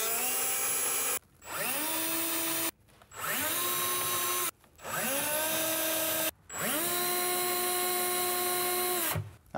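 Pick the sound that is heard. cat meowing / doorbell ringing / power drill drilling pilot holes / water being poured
power drill drilling pilot holes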